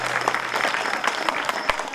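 A devotional gathering at a purana recitation gives sustained, fairly loud applause, a dense patter of many hands clapping steadily without a break.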